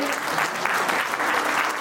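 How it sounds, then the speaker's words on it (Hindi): Audience applauding steadily at an award function held by a JCI chapter in Raipur, a dense, even wash of clapping that sustains for the whole stretch without breaks. "इस शानदार अध्यक्षीय प्रतिवेदन के लिए मैं एक जोरदार तालियां चाहूंगी"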